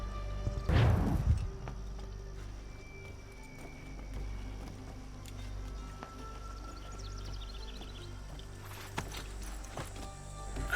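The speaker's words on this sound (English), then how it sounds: "Oh, get on the horse." A horse's hooves clip-clop in a steady walking rhythm inside the game Assassin's Creed 3, moderately loud after a brief thump near the start, over a low ambient hum.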